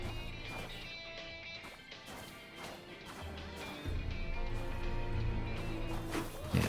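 Donkey Kong pounding and busting the ground in Donkey Kong Bananza, a steady run of crunching smashes and thwacks over game music, with a heavier burst of impacts near the end.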